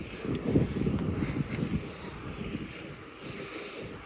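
A 15-mile-per-hour tailwind gusts across the microphone while cycling east through open grasslands, producing rough, blustery rumbling that swells strongly early on and then eases to a steadier rush.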